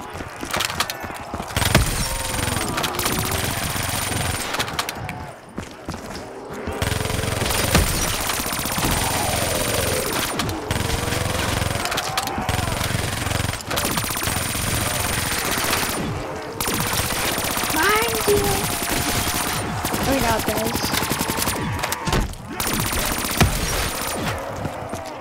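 Rapid bursts of gunfire from the Mario Zombies video game come in repeated volleys, separated by short gaps, with loud mechanical game effects layered underneath.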